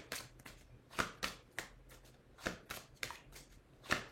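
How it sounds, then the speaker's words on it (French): Tarot cards being shuffled by hand in a quiet room, a series of crisp riffling bursts and soft slaps arriving in irregular rhythm, close and clear with no talking. "Je vais mettre une dernière pour voir si il y a une carte qui veut sortir encore."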